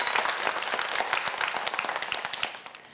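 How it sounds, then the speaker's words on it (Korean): A studio audience applauds a student contestant on a televised science quiz show, a dense burst of clapping that holds steady and then tapers off near the end. "박상현 학생에게 큰 박수 부탁드립니다."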